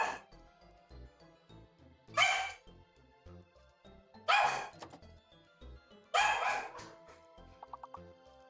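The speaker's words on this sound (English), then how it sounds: "I'll mute myself because the dog's noisy" A dog barks indoors in four loud separate bursts spaced a couple of seconds apart, with a few quick small yips at the end over a quiet background.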